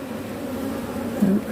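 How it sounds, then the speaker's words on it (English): Honeybees buzz steadily at an open beehive, a close, continuous insect drone with a brief louder swell near the end and no talking. "They're really nice bees."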